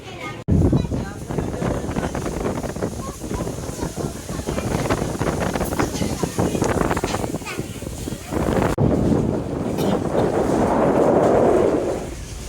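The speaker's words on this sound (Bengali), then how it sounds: "আর দেখতে পারতেছেন প্রচুর পরিমাণ শব্দ হইতেছে বাতাসের।" Strong wind from a Kalbaishakhi storm roars across a passenger launch on the river between Dhaka and Chandpur, a loud continuous buffeting rush that swells toward the end, with a voice partly heard beneath it.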